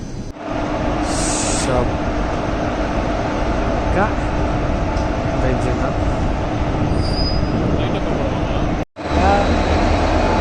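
A passenger train on the Bengaluru to Mangalore route via Sakleshpura during the monsoon rolls along, heard from inside a coach as a steady loud rattling rumble with wheel squeals, a brief dropout near the end.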